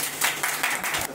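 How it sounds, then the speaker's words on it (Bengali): Audience clapping at a prize-draw gathering as a third-prize winner is announced, a steady patter of many hands, moderately near, surging in short waves with no talk over it. "সবাই হাততালি।"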